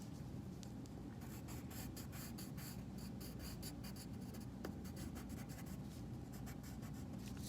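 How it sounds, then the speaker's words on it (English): Pencil drawing palm tree leaves on paper, a close run of quick scratchy strokes that start and stop in short bursts, steady and quiet with no talking. "I'm gonna draw my other palm tree leaves"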